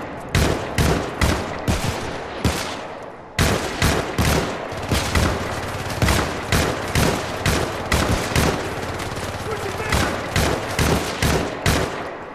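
Rapid gunfire in the video game Syndicate, loud sustained bursts of automatic shots firing in a fast regular rhythm, broken by one brief pause before resuming, with no talking over it.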